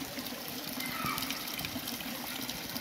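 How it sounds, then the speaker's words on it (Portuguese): Water runs in a stream in a municipal park in Juiz de Fora, a steady close trickling and gushing wash, continuous and moderately loud, with no talking. "Olha que barulhinho gostoso de água correndo aqui, ó."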